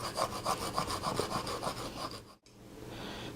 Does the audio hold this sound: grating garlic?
yes